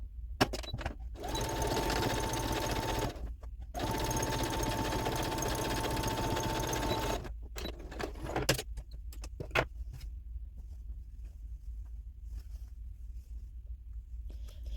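A sewing machine runs in steady bursts, top stitching fabric patches onto a boho patchwork skirt made from upcycled fabric. It gives two long continuous whirring runs, then short stops and starts, and finally goes quiet.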